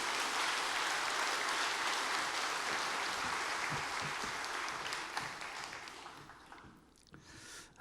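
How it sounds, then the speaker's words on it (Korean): A church congregation at Jangchung Church applauds warmly to welcome the pastor forward for the Sunday sermon: dense, steady clapping from many hands filling the sanctuary for about seven seconds, thinning and tapering off near the end. "큰 박수로 환영해 주시면 감사하겠습니다"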